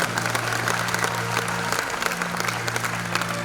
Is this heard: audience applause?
yes